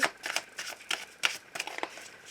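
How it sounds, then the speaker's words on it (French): Tarot cards being shuffled by hand, a quick series of soft riffling and slapping bursts, close and fairly quiet, with no voice over them. "Et je démarre mon tirage avec mon tarot."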